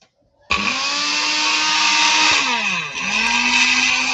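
An electric juicer switches on abruptly and runs at a single steady speed with a loud, continuous motor whine, its pitch briefly dipping and recovering near the end.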